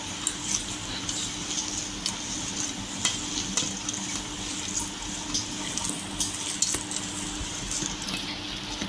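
Poha cutlet vegetable mixture being stirred and mixed with peas, giving a steady wet, soft scraping and squelching texture throughout, close and moderately quiet, with no talking.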